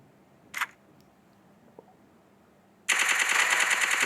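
A brief burst of automatic gunfire from the Free Fire video game erupts near the end, loud and dense, after a quieter stretch with a couple of small clicks and one short sharp snap.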